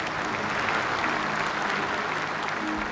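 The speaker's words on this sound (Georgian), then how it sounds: "ტაში ამხანაგებო ტაში" Steady, dense applause from a crowd fills the whole stretch at an even level, with no voices rising above it.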